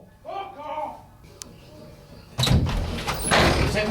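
A door is opened, giving a sudden loud rattling scrape and clatter after a few seconds of voices, with noisy movement continuing afterward.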